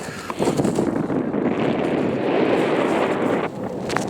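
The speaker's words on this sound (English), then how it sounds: "Whew, she's windy." Strong wind gusts roar steadily across the microphone at a snowy winter camp with an ice shack, a continuous loud rushing that barely dips before surging again.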